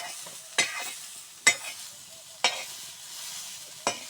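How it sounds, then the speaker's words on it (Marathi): Green chilies tossed into hot oil in a home kitchen while cooking a pigeon pea dal and green chickpea bhaji, giving four sharp sizzling bursts as they are stirred, each fading to a soft crackle between. "तेल टाकून पहिले मिरची टाकायचं"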